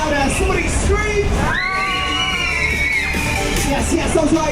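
A rider on the Laser Dome Waltzer at Bolsover Funfair lets out a loud, rising scream that holds for about a second and a half. Shouting voices and clattering ride noise fill the rest of the moment.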